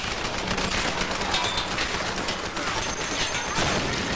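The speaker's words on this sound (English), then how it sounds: "it's a little cheap grenade launcher kill" Grenade launcher and gunfire in a Tomb Raider multiplayer match, a dense, continuous rattle of shots and blasts at steady loudness with no voice.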